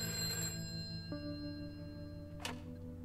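A telephone rings in the video game A Way Out, a steady electronic ring with tonal bursts, one near the start and a brighter one late, over a constant background hum with no talking.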